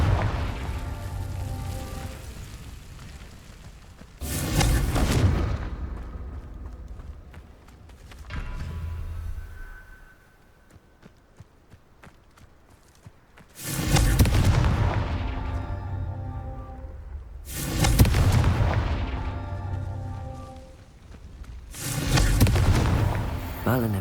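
Repeated Confringo spell explosions in the Hogwarts Legacy video game, with loud booming blasts and rumbling decay arriving in several heavy bursts, close and powerful, between quieter stretches of ambient game sound.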